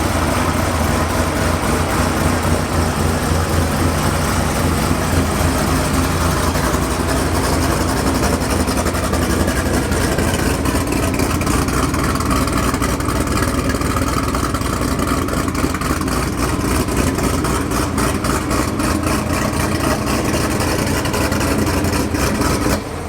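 A built car engine with its stock supercharger ported and polished idles steadily up close, a dense, continuous rumble with a faint lope and no talking over it.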